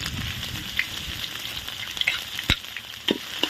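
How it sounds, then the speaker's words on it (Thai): Chili paste and mushrooms stir-frying in hot pork lard, a steady close sizzle with occasional sharp scrapes and clicks of a utensil against the pan, no talking. "ผัดเลยผัดให้หอมนะจ๊ะให้หอมไปเลย"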